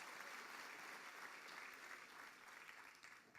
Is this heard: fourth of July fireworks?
no